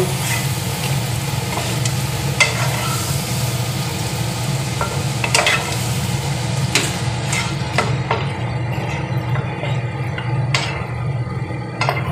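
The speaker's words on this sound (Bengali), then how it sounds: "মাংসটা দিয়ে দেবো, মাটনটা। ভালো করে নেড়ে নেব।" Marinated mutton stir-fried in a pan for a spicy Indian mutton kasha, with a steady sizzle and intermittent clinks and scrapes of a spoon against the pan, no talking.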